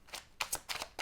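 A tarot deck shuffled close up in a brief, quiet flurry of three or four soft riffles.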